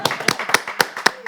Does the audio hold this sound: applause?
yes